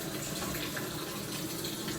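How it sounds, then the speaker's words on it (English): Cold tap water runs steadily into a sink while a cook readies a brine for pork belly and brisket, a continuous close hiss of flowing water with no talk. "Cold water."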